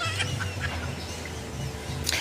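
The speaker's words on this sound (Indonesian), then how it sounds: "Tengok tuh burung-burung berkicau itu." Birds chirping outdoors in the early morning, with scattered short calls over a steady low hum, faint and fairly distant.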